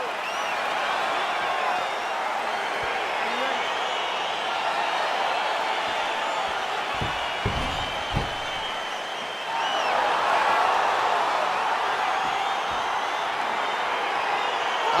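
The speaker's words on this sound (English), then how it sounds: "Crowd getting excited as this fight gets underway" Arena crowd noise from a simulated UFC 4 featherweight bout between Jose Aldo and Brian Ortega, a steady roar of cheering and whooping that swells louder partway through as the fight begins, running continuously without talk.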